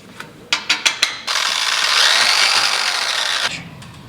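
A few quick clicks, then a power drill whirs steadily for about two seconds, its pitch rising slightly before it stops with a final click.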